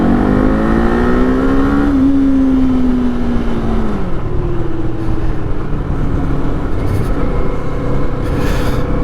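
A Kawasaki Eliminator motorcycle engine revs and climbs, its intake and exhaust droning loudly with a rising then settling pitch over steady road and wind rumble, with no talk.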